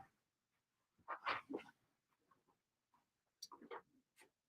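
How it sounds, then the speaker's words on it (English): A dog waits at a door, giving a few short, faint whining and yelping sounds in brief separated bursts, fairly quiet with silence between them. "I have a pup at the door."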